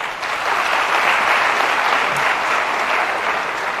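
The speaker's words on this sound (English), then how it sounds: "And may we all clap for all of us." A student audience at MDU Rohtak bursts into loud, dense applause, a continuous wash of many hands clapping together without a break.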